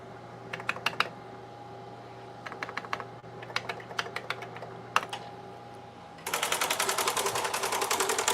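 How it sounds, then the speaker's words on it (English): Keystrokes on a solenoid-driven keyboard machine, with bursts of sharp clacks separated by pauses, then a dense, fast, continuous mechanical chatter near the end; close and fairly loud, with a steady hum underneath. "But now, if I type in my name,"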